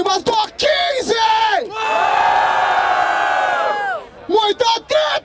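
Crowd at a Brazilian freestyle rap battle in Barueri, São Paulo, roaring and cheering in a loud, sustained swell of shouts and whoops, with voices calling out just before and after.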